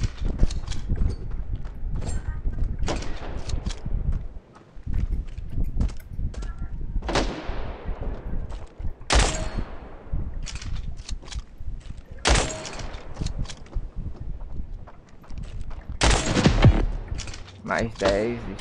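Sniper-battle gunfire in the mobile shooter Standoff 2: a dense run of sharp shots, some loud with long ringing tails, among quicker pops, with a voice talking now and then under the shooting.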